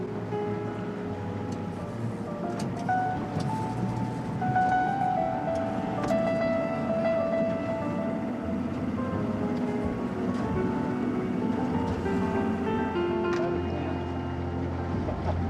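A boat motor running at sea near the shore, a steady, droning engine hum with wind and water noise, close and continuous, with a few faint tonal whines over it.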